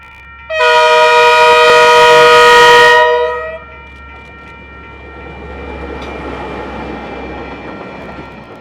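A train approaches a level crossing, sounding a loud, sustained horn blast for a few seconds, followed by a lower, rolling rumble as it passes nearby.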